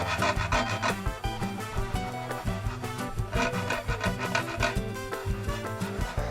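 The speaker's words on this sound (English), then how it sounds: "You can hear it when you take your fingernail to it." A fingernail is dragged repeatedly across the ridged surface of a 3D-printed PLA piece, making close, dry rasping scrapes in a quick, uneven rhythm without any talking.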